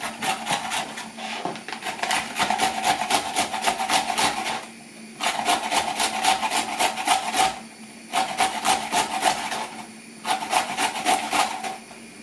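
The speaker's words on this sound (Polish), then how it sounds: "Marchewka obrana, pietruszka obrana i tutaj wszystko zetrę na grubych oczkach" Carrot and parsley are rubbed against the coarse side of a grater in quick, rhythmic rasping strokes, coming in four bursts with brief pauses between.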